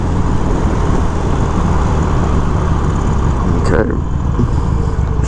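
A 2021 Harley-Davidson Iron 883 motorcycle riding along the road, loud continuous engine rumble mixed with wind roar, a brief shift in tone near the end as the ride goes on.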